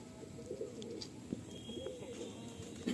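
Pigeons in a full loft coo softly in low, rolling murmurs with a few brief wing flutters, fairly quiet and close, with no talking.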